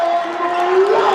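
A school basketball crowd cheers and roars after a slam dunk, a loud, dense wash of voices sustained through the whole brief moment.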